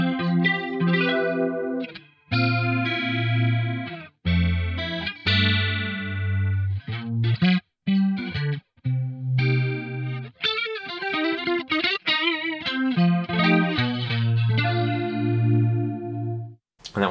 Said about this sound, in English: hiding in that overtone mode is a stereo pitch detune